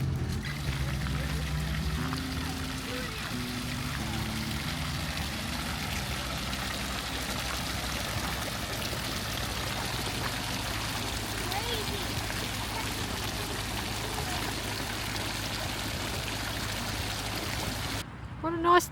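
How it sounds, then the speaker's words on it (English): Steady splashing of water from a town fountain in Forbes, Australia, continuous and fairly close, with a low hum and faint voices at the start. "Waterfall. Fountain."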